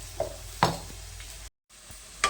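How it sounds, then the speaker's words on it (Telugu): Onions, green chillies, cumin, garlic and curry leaves fry in a pan with a soft, close sizzle, broken by a few sharp spatula stirs and a brief gap of silence. "ఉల్లిపాయ ముక్కలు, పచ్చిమిరకాయలు, జీలకర్ర, వెల్లుల్లి, కరివేపాకు మంచిగా వేగనిద్దాం."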